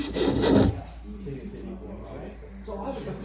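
A hand plane blade is rubbed on a sharpening stone, a short coarse rasping stroke up front followed by quieter scraping while a voice talks nearby.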